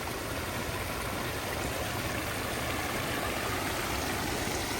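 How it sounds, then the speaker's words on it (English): Several small waterfalls spilling into a newly built 18-by-18-foot, four-foot-deep wildlife pond in Dallas, Texas, give a steady, dense rush of splashing water that stays constant and fairly loud throughout, with no talking. "Got a few waterfalls in there."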